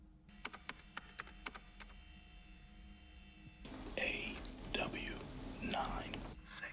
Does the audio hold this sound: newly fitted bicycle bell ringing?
no